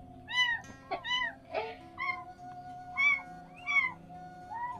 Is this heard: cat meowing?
yes